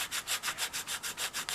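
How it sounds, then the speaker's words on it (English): Soft filler on a doll repair is sanded in quick, even back-and-forth strokes, about ten rhythmic rasps in under two seconds, faint and close with no talking. "This stuff is very soft and it sands fast"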